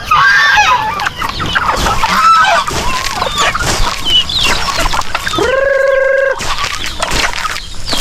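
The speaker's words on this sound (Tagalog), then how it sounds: "Ay, gansa rin tayo dyan. Pinakamaingay dito yung gansa." Loud, nasal goose honks repeat near at hand amid farmyard calls of chickens and turkeys, with a long drawn-out honk standing out partway through.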